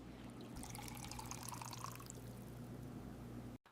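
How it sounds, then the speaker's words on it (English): Coconut oil pours into a jar in a soft, continuous liquid trickle with faint dripping. A low steady hum sits beneath it, and it cuts off abruptly at the end. "Next, I add 50 milliliters of coconut oil to strengthen my hair and reduce protein"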